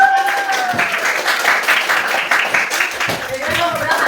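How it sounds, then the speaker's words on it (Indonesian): Students in a school religion class clap together, a lively burst of applause that carries on evenly, with voices mixed into the clapping. "beri dulu tepuk tangan"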